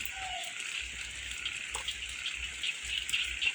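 Steady early-morning rain falling outdoors near rice paddies, a faint continuous hiss and patter with soft low thumps underneath.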